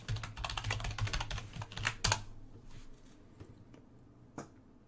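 Fingers type a username and password on a computer keyboard, a quick dense run of close key clicks that thins out to a few scattered taps and quiet.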